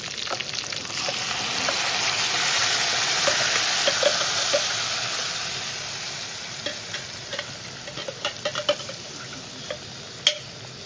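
Tomato chutney with curry leaves sizzles steadily in a hot pan, loud and close, while a spoon stirs and scrapes, with light ticking taps toward the end.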